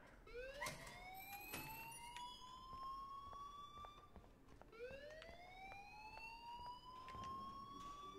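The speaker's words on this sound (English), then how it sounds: "please turn off that alarm" An alarm in the video game Life is Strange wails as a rising siren tone that repeats in two long upward sweeps, steady and moderately loud over a faint background.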